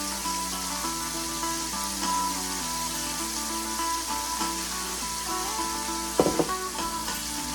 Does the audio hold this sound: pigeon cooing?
no